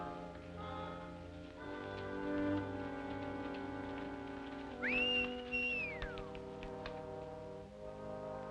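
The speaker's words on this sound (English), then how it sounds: "Stop whistling for that horse." A person gives a short rising-and-falling whistle to call a horse, heard midway through a Western scene over a bed of sustained orchestral music, fairly close but partly blended with the score.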